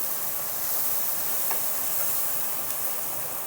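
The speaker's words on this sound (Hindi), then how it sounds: "ये मसाले हमने अपने अच्छे से इसमें भूनने हैं।" Yogurt and coarsely pounded spices for a green masala chicken roast over low heat in a pan, a quiet, even hiss throughout with a couple of faint ticks.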